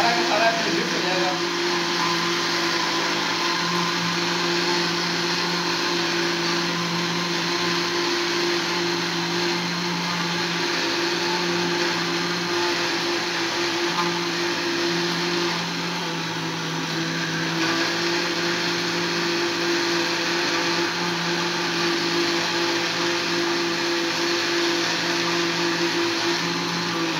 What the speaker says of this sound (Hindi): ये अच्छी तरह इसमें बादाम और आमला और अंडा और अमरूद, ये सारा का सारा इसमें मिक्स हो जाएगा।